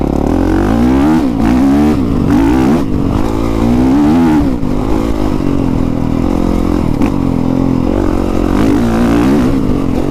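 A 2020 Honda CRF450R dirt bike engine runs loud and continuous while riding, pitch rising and falling with throttle changes and a steady rough drone throughout.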